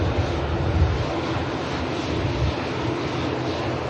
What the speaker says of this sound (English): Virgin Atlantic 350 about to undertake the left-hand bank turn.